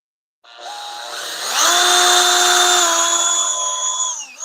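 A power drill countersinks a hole in wood: a sharp motor whine spins up, rises in pitch as the bit bites, holds steady and close for a few seconds, then winds down abruptly.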